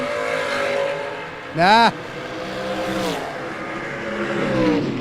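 Dragster race cars at a drag race event roar and whine with steady engine noise, and one car sweeps sharply past mid-clip, all under a track announcer's commentary.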